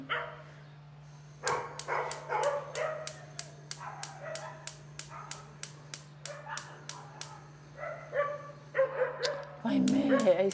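Small dogs bark in a rapid, sharp volley, near and loud, over a steady low hum in a kitchen, with a voice talking at the start and end.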